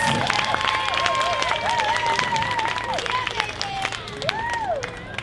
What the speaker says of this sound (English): Must give them a round of applause.